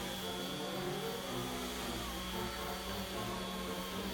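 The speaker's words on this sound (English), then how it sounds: "Time to get into the sanding." Steady, continuous whirring of a power sander working wood veneer, loud and close, with a constant high whine over broadband noise.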